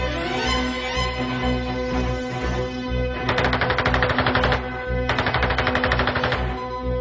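Twin ShKAS machine guns on a Polikarpov I-16 fighter fire in two long rapid bursts, a harsh, dense rattle over a steady droning engine, loud and close with no talk.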